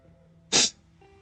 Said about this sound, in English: that post-nasal drip sniff